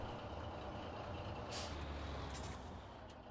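A truck engine in Farming Simulator 17 rumbles steadily while a sharp hiss of an air brake bursts out midway, then the engine noise continues and eases slightly.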